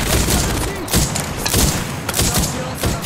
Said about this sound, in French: J'ouvre le feu sur l'ennemi.